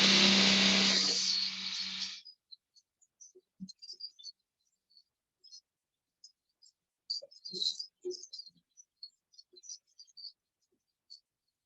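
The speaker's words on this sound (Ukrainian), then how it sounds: "Включаємо блендер." A blender whirs loudly for about two seconds, blending a sugar-free Snickers-style mixture with a little water, then cuts off, leaving faint scattered clicks and light clatter.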